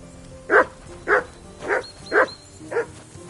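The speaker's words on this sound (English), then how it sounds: "Call off that mutt of yours!" A dog in the video game Kingdom Come barks six times in an even rhythm, each bark short and fairly close, over a quiet ambient background.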